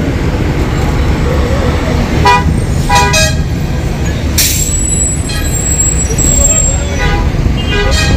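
Busy roadside traffic near a market street in the heat, with car and bus horns tooting several times over a constant loud rumble of engines and air brakes, and voices talking faintly underneath.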